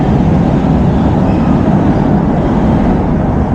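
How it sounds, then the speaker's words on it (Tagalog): An MRT train in Manila bound for Cubao passes nearby, a loud, steady, broadband rumble and roar lasting throughout with no talking. "Ito pa MRT yan eh. Papuntang Cubao."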